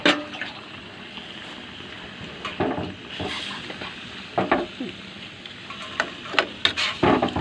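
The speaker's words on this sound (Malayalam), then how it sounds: "നമുക്ക് വെള്ളം ഒഴിക്കാം." Water poured into a cooking pot holding chicken in a home kitchen, a soft splashing trickle with intermittent clatters and sloshes, fairly quiet and close.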